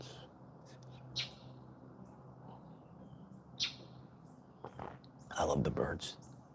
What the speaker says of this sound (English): I love the birds. The birds are out.